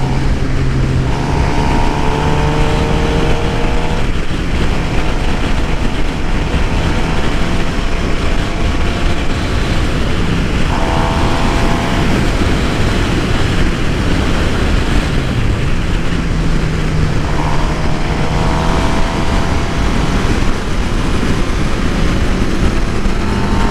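Suzuki GSX-R 750 sport motorcycle on a test ride, a loud continuous engine drone smothered by heavy wind roar at the helmet, with rising tones repeating as it revs through the gears.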